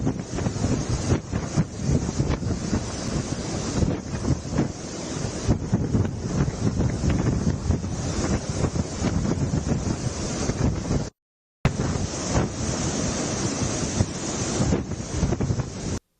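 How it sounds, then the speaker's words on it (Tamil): Strong cyclone wind, about 110 km/h, roars over surf on the Andhra coast during Cyclone Montha, a loud continuous rush with microphone buffeting, briefly cutting out before resuming. "புயல் கரையை கடந்தபோது மணிக்கு 110 கிலோமீட்டர் வேகத்தில் பலத்த காற்று"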